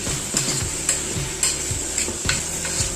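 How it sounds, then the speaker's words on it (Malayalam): Chopped tomato sautés in a pressure cooker for chicken biryani, a loud continuous sizzle broken by rhythmic spoon scrapes and stirring strokes about every half second, close and with no talking. "ചെറുതായിട്ട് കട്ട് ചെയ്ത് വെച്ചേക്കുന്ന ഒരു തക്കാളി അത് ഇട്ട് കൊടുത്ത് ഒന്ന് വഴറ്റി കൊടുക്കണം"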